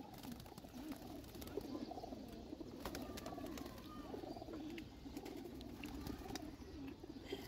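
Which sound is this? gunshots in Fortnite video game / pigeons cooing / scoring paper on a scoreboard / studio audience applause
pigeons cooing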